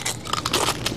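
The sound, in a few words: loud crunching while eating watermelon salsa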